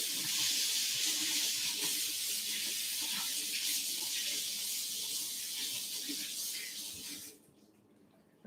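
Tap water runs steadily into a kitchen sink to rinse four potatoes, a broad continuous hiss near the mic that cuts off abruptly near the end.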